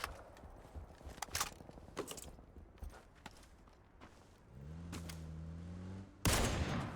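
Scattered gunshots crack at irregular intervals in the video game PUBG, followed by a rising mechanical hum and a final loud, harsh blast.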